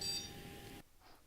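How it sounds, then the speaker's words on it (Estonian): A small Edison educational robot emits an electronic beep as it halts on a black line, a steady tonal bleep lasting under a second, close and clear, then cutting off to near silence. "Teeme nüüd programmi huvitavamaks, lisades seisma jäämisele ka ühe piiksu."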